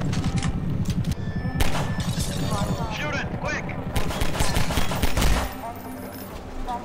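Rapid gunfire bursts from a weapon in the video game Half-Life 2, dense and loud throughout, with overlapping combat noise and a voice talking at points.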